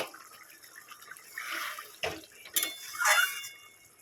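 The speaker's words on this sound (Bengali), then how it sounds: "এবারে কড়াটা ভালো করে ধোবো" A kadai (frying pan) is rinsed with running water, with short splashing bursts of flowing and pouring water at close range and no talking.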